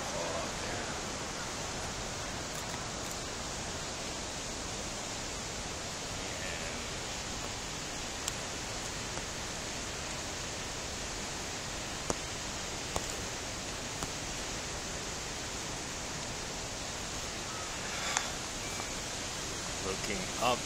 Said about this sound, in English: Another major waterfall out there.